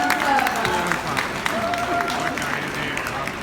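An audience at an agricultural show's cat judging applauds a selected Norwegian female cat, a steady wash of clapping close by, with a voice speaking over it.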